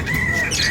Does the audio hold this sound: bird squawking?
yes